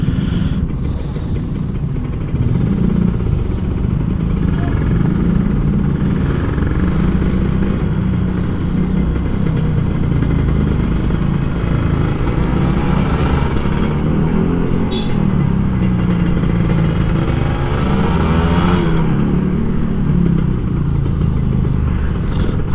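A two-stroke Kawasaki Ninja RR motorcycle engine drones steadily up close in Jakarta traffic, its pitch rising and falling with throttle changes over a continuous low rumble, with no talking.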